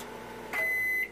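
A microwave oven gives a single steady electronic beep lasting about half a second, clear and close over a quiet hum.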